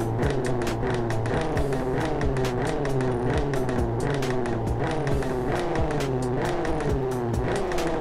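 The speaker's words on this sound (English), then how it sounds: "Okay, so that's how you get crackle pop pops when you stand still." In the Driving School Sim video game, a car's exhaust crackles and pops in rapid, irregular bursts over a loud, constant engine drone as it is held at high revs while standing still.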